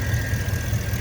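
A 2011 Ford F-150 SVT Raptor 4x4 with a 6.2-liter gasoline engine idles, giving a steady, close, low rumble that holds even for the whole second with no talk.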